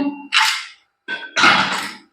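Steam hisses out of a pressure cooker after its weight is lifted following two whistles, in two sharp, loud bursts, a short one and then a longer one that fades to silence.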